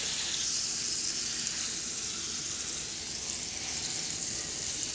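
Four large smashed burger patties sizzle on a hot griddle, a quiet, even, continuous hiss that stays steady throughout with no voices.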